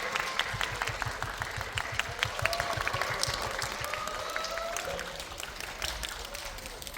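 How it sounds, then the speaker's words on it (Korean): Audience applause at a film Q&A screening fills the hall, a dense, steady wash of many hands clapping that continues throughout and fades slightly toward the end. "다시 한번 박수 부탁드리겠습니다"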